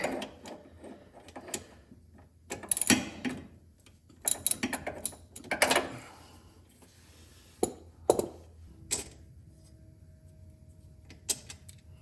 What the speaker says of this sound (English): let's get these 2 bolts on out of here